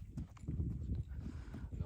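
A horse walking nearby, hooves clip-clopping in a loose, uneven rhythm, low and soft with faint rustling around it.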